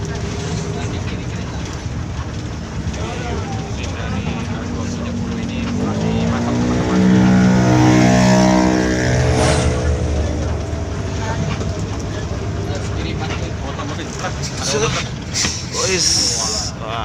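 An ALS 270 bus cruising on a highway, its engine droning steadily and swelling mid-way into a rising harmonic whine before settling back, with people talking over it.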